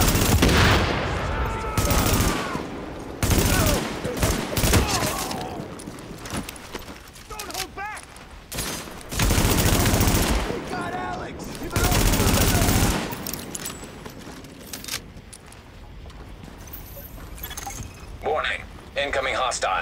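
Bursts of automatic gunfire in The Division video game come in repeated loud volleys with short gaps between them, mixed with game sounds and voices.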